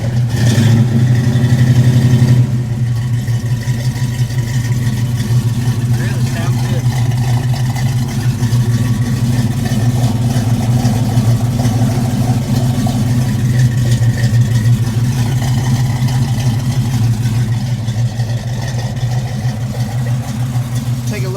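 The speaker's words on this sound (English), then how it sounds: "We'll shut this and we'll hear how the car sounds." A 1968 Chevrolet Camaro SS V8 engine runs loud and close with a deep, steady rumble, rising in a brief rev at the start before settling into a sustained, throaty idle for the rest of the clip.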